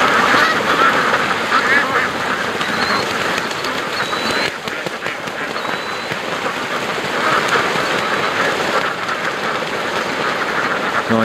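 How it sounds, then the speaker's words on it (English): Canada geese honk repeatedly over a steady outdoor wash, calls overlapping among other waterfowl at moderate distance. "Now I know there's some Canada geese here."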